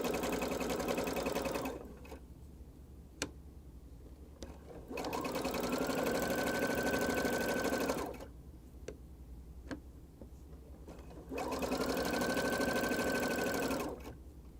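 A sewing machine with a Teflon presser foot hems the edge of a cape, running in two steady whirring bursts of rapid stitching separated by quieter pauses, close and clear.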